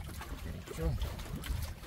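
A fishing boat's engine strains under load as it hauls a large net during night fishing, a low droning rumble with water sounds and voices talking over it.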